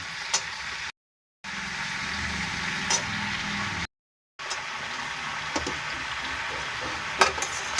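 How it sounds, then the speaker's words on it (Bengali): Young pumpkin greens are dropped into a hot pan with potatoes for a vegetarian curry, crackling and sizzling steadily with scraping stir sounds, briefly cut by two short silent gaps. "এবারে দিয়ে দিচ্ছি কুমড়ো শাকটা। অল্প করে দেবো আর নাড়াচাড়া করব।"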